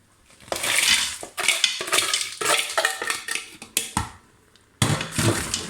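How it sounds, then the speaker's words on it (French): Vegetables and spices are stirred in a Cookeo electric pot for a fish tajine, a series of close scraping and clattering spoon strokes against the pot with short pauses between them. "Je mélange."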